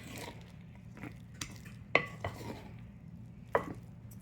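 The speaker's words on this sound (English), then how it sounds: "I'm scraping down the sides for any leftover flour or anything, just so it's evenly distributed." A spoon scrapes flour down the sides of a mixing bowl of banana bread batter, giving a few sharp, brief clinks and scrapes spaced apart over a low, steady room hum.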